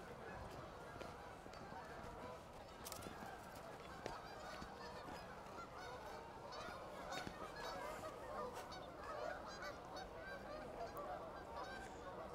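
Flock of geese honking continuously in downtown Oakville, Ontario on a freezing January day, a dense chorus of overlapping calls at moderate distance, with a person talking over it.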